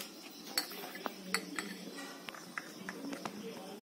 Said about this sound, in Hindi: ये सारी चीजों को अच्छी तरीके से मिक्स कर लेंगे